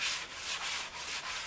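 Hand sanding of a cedar strip boat's topsides with 440-grit sandpaper over sealer, a soft continuous hissing rub in steady back-and-forth strokes, close and fairly quiet, with no talking.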